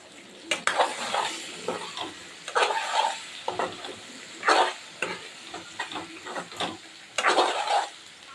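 Onions, tomato and poppy seeds are stir-fried in a pan, giving a constant sizzle broken by frequent rhythmic scrapes and clatters of a spatula against metal, close and moderately loud, with no speech.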